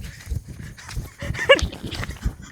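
A dog barks at night outdoors, several short sharp barks scattered over a murmur of background noise, with one louder bark standing out near the middle.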